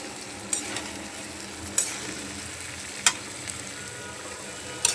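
Fish and vegetable stalks fry together in a pan, giving a steady close sizzle with a few sharp utensil clicks as they are stirred.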